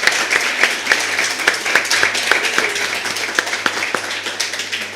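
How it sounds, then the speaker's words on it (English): A small audience applauds a panel at a live-streamed event. The claps are sparse and distinct, a modest round of separate hand claps close by, with little else around them. "Give them a round of applause again."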